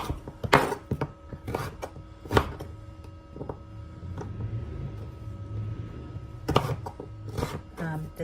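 A kitchen knife chops through firm raw rutabaga on a cutting board in a series of irregular, sharp thuds, fairly quiet, with soft movement sounds between cuts.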